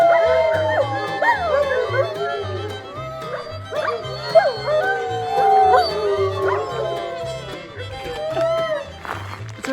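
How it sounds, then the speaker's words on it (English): Sled dogs at a kennel in Denali National Park, Alaska, howl together in a sustained, wavering chorus with yips and whimpers mixed in, close and loud, while people talk quietly underneath. "we got to spend a lot of time with the dogs, and they even did a little singing for us"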